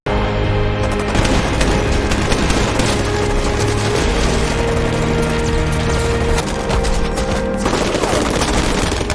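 Dense, loud rattle of rapid gunfire and mechanical clatter, sustained and chaotic, with booming impacts layered over a constant roar.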